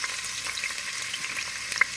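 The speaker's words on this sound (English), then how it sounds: "Put in your chopped onion" Chopped onion crackles and sizzles steadily in half a cup of hot oil in a pot, a continuous bright fry with light stirring scrapes and one sharper pop near the end.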